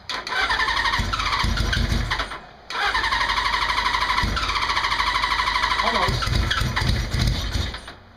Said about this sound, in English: Put it on run, pull the clutch in, choke out, see what happens.